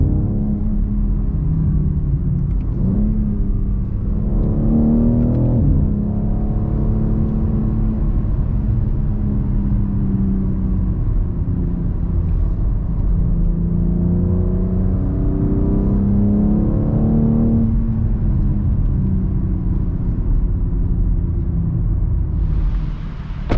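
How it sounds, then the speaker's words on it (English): A 2023 BMW X4 M Competition engine rumbles and whirs steadily with rising and falling revs, shifting tone as the throttle eases off and the turbos dump excess pressure through the exhaust, no voices present. "when you back off, it's going to this really dumping exhaust sound as the turbos release the excess pressure"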